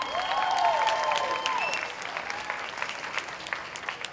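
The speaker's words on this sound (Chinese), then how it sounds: "大家再掌声一次好不好？" Dense, sustained applause from an audience fills the hall at a joint five-school music concert in Chiayi as the mayor is welcomed, with a brief whistle-like tone sounding early over the clapping.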